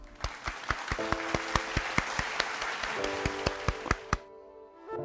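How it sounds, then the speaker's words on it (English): Soft, sparse golf-clap applause, a small group tapping hands in a light rhythm over a quiet musical tone, fading out near the end. "that was a complete golf clap"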